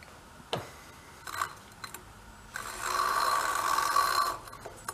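A drill spins an engine valve with lapping compound on a Kohler engine: a rasping, grinding whir runs for about two seconds after a few scattered taps and scrapes, moderately close and fairly quiet.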